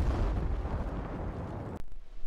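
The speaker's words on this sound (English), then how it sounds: "that will call in the V-1 rocket to the designated location" A V-1 rocket strike in the video game Battlefield V lands as a loud, sustained explosive roar with deep rumble, cutting off abruptly near the end before another burst begins.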